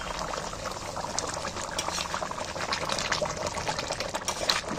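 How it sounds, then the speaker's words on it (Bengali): Meat curry simmering in a covered pot gives a steady, moderately loud bubbling and hissing boil that runs continuously without pause. "এবার আমি একটু চাপা দিয়ে দিচ্ছি সেদ্ধ হওয়ার জন্য"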